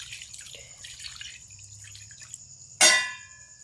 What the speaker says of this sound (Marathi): आपण लिंबूचं पाणी रस घालणार आहे.